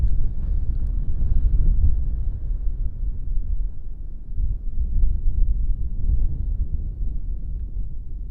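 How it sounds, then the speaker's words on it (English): Low, steady rumbling desert wind buffeting the microphone, continuous throughout with slight swells, and no voices. "I'm sorry it's a little windy right now"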